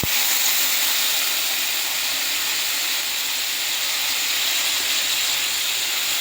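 Water poured into hot spice masala in a pan, giving a loud, steady, hissing sizzle that fills the whole stretch with no break.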